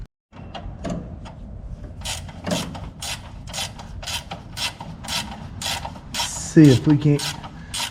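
A 5/8 socket wrench works a bolt on a Butcher Dart build, giving a run of loud, evenly spaced ratcheting rasps that quicken toward the end, close up, after a brief spoken phrase.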